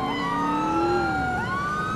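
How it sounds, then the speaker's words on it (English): An ambulance siren in the video game GTA IV wails loud and close, its pitch sweeping up and down continuously with no talk over it. "Ambulance!"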